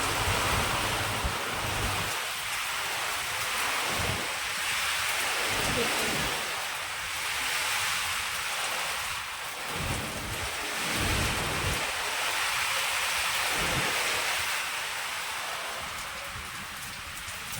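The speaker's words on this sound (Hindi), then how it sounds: "बड़ा मस्त बारिश हो रही है।" Steady rain pours down throughout, a dense hiss of falling water with low rumbles and thumps recurring underneath every couple of seconds, moderately loud and continuous.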